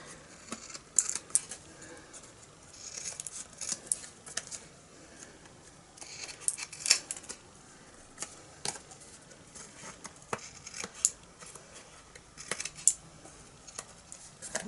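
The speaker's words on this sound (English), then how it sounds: "I'm just going to get scissors out, cut off the excess here." Irregular snipping and crisp paper rustles, close and fairly quiet, as scissors trim excess paper along an edge in short bursts.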